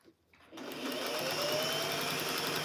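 A sewing machine runs while quilting a flannel rag quilt, starting after a brief quiet moment and then whirring steadily and close up.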